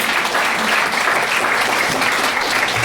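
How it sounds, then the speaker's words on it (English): Audience applause at an educator of the year award ceremony, a steady dense burst of clapping from a crowd filling the room for about three seconds. "you can clap for that"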